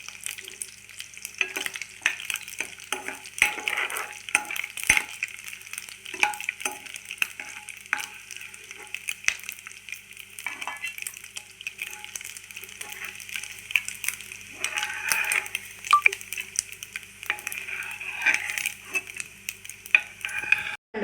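Dried prawns for a prawn curry sizzle in a hot pan as they are fried and stirred, with steady crackling and scattered scraping clicks of a spoon over about twenty seconds, close and moderately loud.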